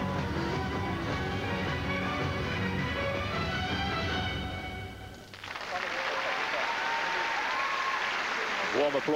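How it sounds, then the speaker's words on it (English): Swiss fans in an arena applaud at a European figure skating championship men's short program, warm clapping rising after a brief dip, with a commentator's voice heard over the start. "Warm applause from the Swiss who made the trip"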